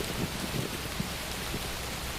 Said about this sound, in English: And it is raining. And there is lightning.